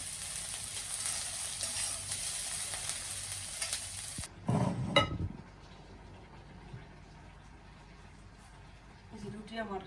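Shrimp fry in a pan with a continuous sizzle for the first few seconds, followed by a short burst of louder stirring and handling noise before the sound drops away.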